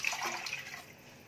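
Water poured from a cup into a kadhai of uncooked rice, two cups measured for one cup of rice; a brief, close splashing gush that fades out within about a second.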